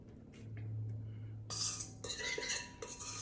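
A spatula scrapes a bowl of orange cake batter in a home kitchen, a quiet hum followed by bursts of close scraping and clinking strokes against the bowl.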